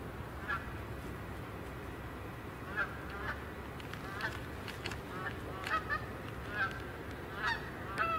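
A flock of geese honks outdoors near a water outflow, repeated calls of moderate loudness rising over a steady rushing background, with several honks bunched together later on.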